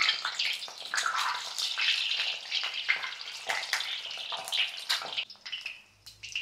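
Eggs frying in hot oil, giving a dense, continuous bubbling sizzle with crackling pops, close and steady until it thins out near the end as a low clunk sounds.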